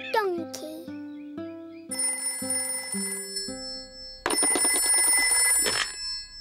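A telephone rings in the Peppa Pig cartoon: a loud, bright electronic ringing bursts in near the end, after a run of short cartoon musical tones and effects.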